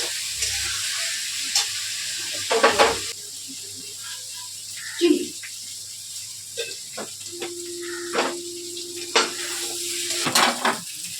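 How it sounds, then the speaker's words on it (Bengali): Curry with ground spice paste and a splash of water fries in a pan, a soft sizzle under scattered scraping stirs and occasional clinks of a utensil against the pan, close and fairly quiet. "তরকারিটা মশলা বাটিটা দিয়ে একটু জল দিলাম দিয়ে একটু কষিয়ে দিলাম"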